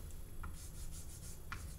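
Pen or chalk writing by hand during a math lecture, a soft continuous scratchy rubbing with a couple of brief sharper strokes, close and quiet, no talking.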